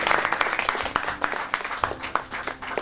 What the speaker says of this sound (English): Big clap for Vikram Sethi.